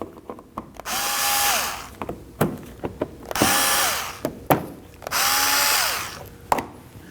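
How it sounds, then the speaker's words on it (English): A cordless drill with a Phillips bit backs out clips on a Kia Optima, three loud whirring bursts with rising pitch, separated by ratcheting clicks and small knocks. "Using a Phillips screwdriver, go ahead and take them out."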